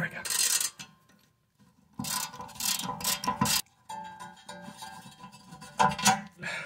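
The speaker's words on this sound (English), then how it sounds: "Allen wrench thing is in. Let's see if it'll come loose." Allen wrench working a brake bracket bolt loose on an MK2 Golf, giving short bursts of metallic clicking and ratcheting separated by a pause, close and fairly quiet.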